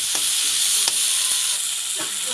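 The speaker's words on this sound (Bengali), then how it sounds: "কেটে রাখা টমেটোটা দিয়ে দিচ্ছি।" Chopped tomato dropped into a hot pan with spices for a spicy tangra fish curry with spring onion stalks, giving a loud, steady hiss of sizzling with a few light stirring knocks.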